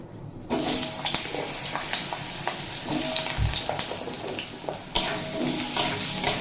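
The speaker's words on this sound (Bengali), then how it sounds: "এক মিনিট মতো ভেজে নেব আলু মিডিয়াম ফ্লেমে রেখে" Potatoes fry in mustard oil with whole cumin over a medium flame, giving a close, continuous sizzle broken by stirring scrapes and a louder clatter partway through.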